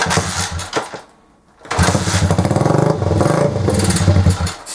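A Honda CG125 cafe racer motorcycle engine catches after a brief pause and settles into a loud, uneven single-cylinder idle with throttle blips, close by.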